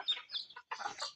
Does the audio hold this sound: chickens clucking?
yes